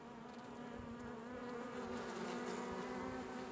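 Honeybees at an opened hive, stirred up by smoke, produce a loud, continuous swarming buzz that swells slightly toward the middle, close by and without talk.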